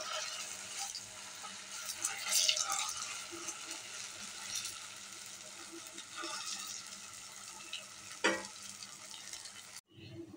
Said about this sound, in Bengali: উল্টে একটু ভালো করে ভেজে নেব।